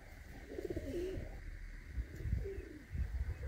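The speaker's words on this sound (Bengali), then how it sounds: "এটা হচ্ছে আমার প্রিয় কবুতর" Pet pigeons coo softly nearby in a few low, rolling phrases over faint steady background hum, with no voices.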